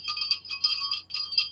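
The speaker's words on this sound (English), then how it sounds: "I'm wearing my little bell earrings as well" Small bell earrings give a bright, high jingle in three short bursts, close and clear against a quiet background.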